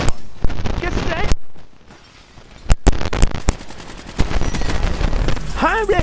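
Video game gunfire from Call of Duty Black Ops III: rapid bursts of automatic shots in loud clusters, with a quieter gap midway, mixed with game effects and someone talking over the action.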